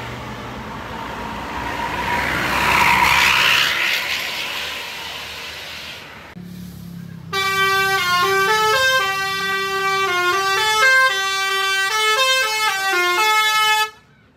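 A passing bus at Anyer beach gives a loud rushing roar and a short horn blast. A brief pause follows, then a long, loud, melodic multi-tone basuri horn plays a tune for several seconds before stopping abruptly.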